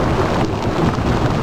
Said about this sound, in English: First really good storm this summer.